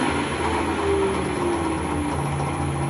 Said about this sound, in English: That noise is just that pulley at the moment at the bottom.